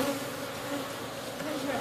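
Dense, steady buzzing of many honey bees crowded inside a hive, a continuous close-up drone that holds level throughout with no voices.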